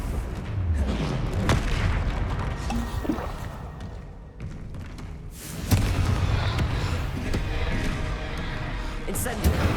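A Confringo fire spell blasts in Hogwarts Legacy, giving loud, booming explosive bursts with rumbling impacts, a short lull midway, then another heavy blast and ongoing battle noise.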